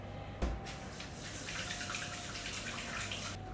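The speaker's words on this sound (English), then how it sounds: "Just let me wash my hands." Hands being washed under a running kitchen tap make a steady, close hiss of flowing water with soft splashing, starting with a faint knock and carrying on alone.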